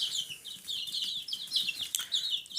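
A crowd of young chickens peeps and clucks continuously, high-pitched chatter close by with no talking, in western Ukraine.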